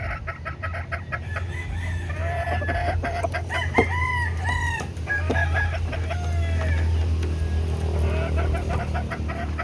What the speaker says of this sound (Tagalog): broadcock natin nag-champion sa dagupan original black milsin po yan